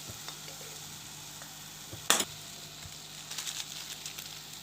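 Rice with turmeric and spices is stirred in a pan, a quiet low sizzle with soft scraping and one sharp clatter of the spoon partway through.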